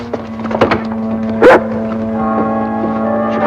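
A big dog barks a few times, with a loud burst near the middle over a steady background hum, set in a Western television scene.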